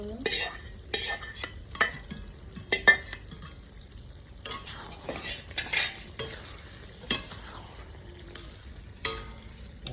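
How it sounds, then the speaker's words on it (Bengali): Onions frying in a pan for a restaurant-style kala bhuna chicken, with sizzling and a spoon stirring and scraping in irregular bursts against the pan, fairly close. "পেঁয়াজ দিয়ে দাও ফ্রাই করে একটু"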